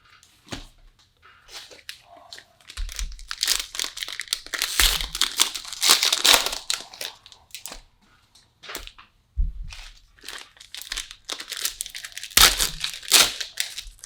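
Contenders and Prizm trading card packs being torn open, with repeated crinkling and ripping of foil wrappers in close, irregular bursts and brief pauses between packs.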